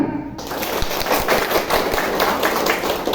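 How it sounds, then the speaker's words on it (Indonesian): A group at an Indonesian company service training session claps hands together in a rhythmic pattern, loud and close. Individual sharp beats stand out over a busy texture of many hands, with no clear talking. "Tepuk tangan."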